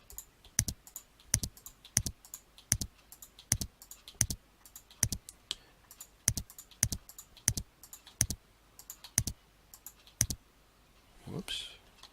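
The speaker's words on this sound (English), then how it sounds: "Click on the inner triangle and press the delete key on my keyboard." A computer mouse clicks and a keyboard delete key is pressed, sharp, close clicks repeating at a steady, regular pace, followed by a brief breathy sound at the end.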